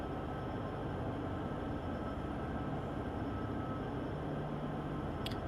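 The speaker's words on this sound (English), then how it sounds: "Most of the train's still going uphill though." An American freight train in a train simulator game rolls steadily downhill, a dense continuous rumble of wheels and cars holding at a constant loud level, with a brief faint click near the end and no voices.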